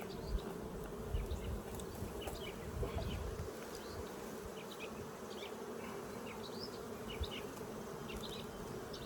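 Honey bees humming steadily at an opened hive during an inspection, a continuous close buzz with occasional louder passes of individual bees near the listener.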